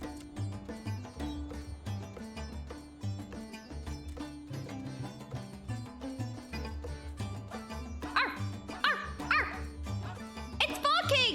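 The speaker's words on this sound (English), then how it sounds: "It's barking! See? You can hear it." Dog barking in the Final Fantasy XIV game, a few yips and barks sitting under busy, continuous game music with a steady bass line throughout.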